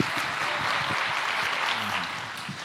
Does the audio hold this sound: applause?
yes